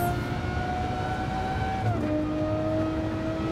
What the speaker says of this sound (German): Oh, das Gekreische von diesem Auto ist der Wahnsinn.